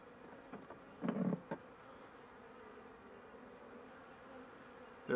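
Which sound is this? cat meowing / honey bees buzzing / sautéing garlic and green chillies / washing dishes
honey bees buzzing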